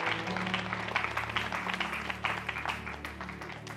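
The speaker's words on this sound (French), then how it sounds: "applaudissons le Seigneur" A church congregation at a Sunday service applauds, steady clapping over a low sustained musical hum that continues throughout.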